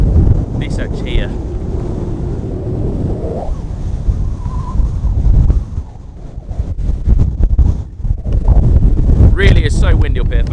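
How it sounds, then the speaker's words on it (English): Strong gusting wind on Bamford Edge in the Peak District buffets the microphone with a heavy low roar throughout, rising and dipping, while a voice talks faintly underneath. "It's so windy up here, folks."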